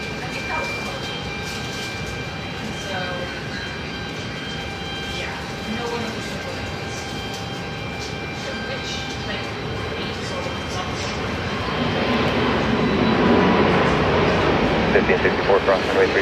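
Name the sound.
airplane at Seattle-Tacoma airport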